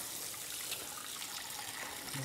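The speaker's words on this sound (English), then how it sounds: "So what I'll do is I'll get some warm water from the sink." Warm water running from a kitchen sink tap during home cooking, a steady bright hiss and trickle with a faint thump near the end.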